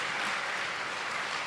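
Audience applause at a Tamil speech event, a steady broadband clapping that fills the whole moment evenly without pause, with no voices heard over it.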